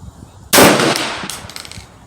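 One sharp, loud crack from a free-floated .22 LR Remington 597 semi-auto rifle fired at a target outdoors, with a brief ringing decay and a faint echo afterward.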